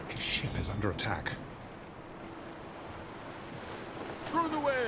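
Ocean waves wash around a ship under attack in a Roman city-building game, a soft, breathy surge with wind. Brief voice-like bursts open the clip, and the waves rise again toward the end.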